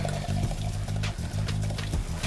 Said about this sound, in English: Pour a little bit of olive oil in there, not too much.